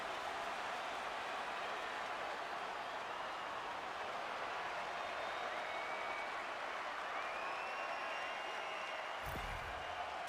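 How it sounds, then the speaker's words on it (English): Crowd at an international ice hockey game between Switzerland and Norway cheers and applauds after a Swiss goal, a dense, sustained roar of the arena filling the whole stretch. "Team Switzerland's on the board. The crowd's loving it."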